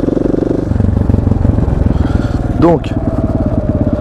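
A KTM 690 SMC R motorcycle idles with a steady, throbbing single-cylinder pulse that echoes loudly around a parking garage, and someone speaks briefly over it.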